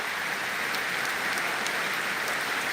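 Steady rain falling outdoors, a continuous dense hiss of drops with no pauses, fairly loud and close, with no voices over it.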